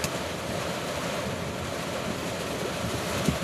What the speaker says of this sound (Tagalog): Ayun na, mahangin na oh. Bagyuan na talaga.